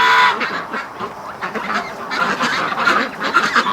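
A flock of ducks raised for charity quacks loudly and continuously as they crowd into their pen, the calls honking and overlapping with no pause.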